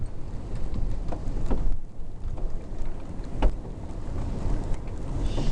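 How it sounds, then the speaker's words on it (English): Quarter-sized hail pounds down during a tornado storm near Dunn, North Carolina, a loud, dense, continuous roar of impacts with a few sharper cracks standing out, no voices. "is that quarter-sized hail?"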